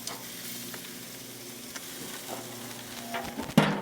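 Meat on sticks frying in a pan at about 300 degrees, a steady soft sizzle with occasional scrapes as the skewers are moved, ending in a louder knock, no talk.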